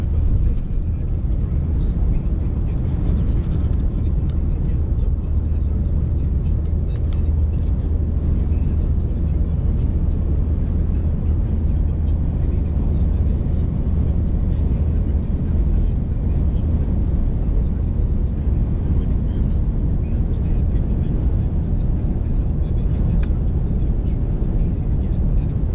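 A car cruising along a remote highway on a sunny day, giving a steady, loud road and engine drone with tire rumble that continues unbroken throughout.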